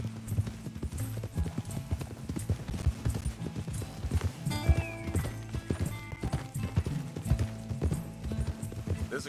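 Horse hooves clip-clop steadily along a trail in the video game Red Dead Redemption 2, with a whinny partway through, layered over game ambience and occasional voices.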